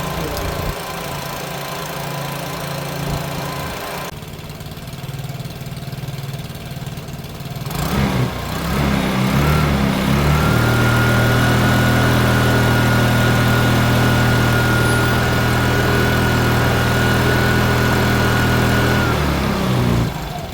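A rebuilt 125cc Piaggio scooter engine idles steadily with a low, even putter, with valves needing oil and a loose exhaust, after some handling noises and a brief start-up rise, running continuously to the end.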